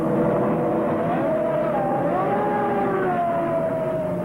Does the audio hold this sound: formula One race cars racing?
yes